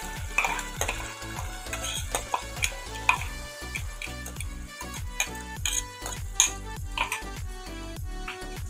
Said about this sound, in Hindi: दो तीन मिनट तक अच्छे से भून लेंगे खुशबू आने तक।